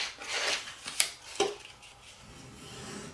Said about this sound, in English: I just take my little brayer tool and I fold these down nice and crisp